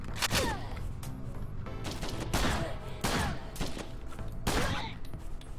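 Gunfire in a rogue-style game sounds as a handful of sharp, separate shots in an irregular rhythm, roughly one a second, fairly close and moderate in level over a low game backdrop, with little speech.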